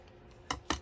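Two quick, crisp snips from scissors cutting, close and distinct against a quiet room.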